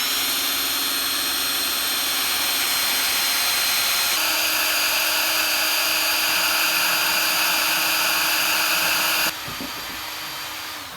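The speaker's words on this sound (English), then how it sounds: "Gonna have to drill out the swing arm, unfortunately, or not the swing arm, but subframe." A power drill boring out seized bolts on the subframe of a YZ250 motorcycle, a loud continuous high whine that holds steady, shifts pitch partway through, then cuts out abruptly near the end.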